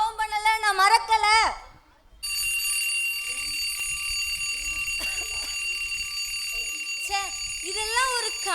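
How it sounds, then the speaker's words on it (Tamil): An alarm clock rings during a women's stage play at a church festival, a shrill, steady electronic ring that runs for several seconds. Before it, someone speaks in an emotional voice, and another voice talks as it rings. "இந்த அலாரம் வேற இந்த நேரம் அடிச்சுட்டே இரு."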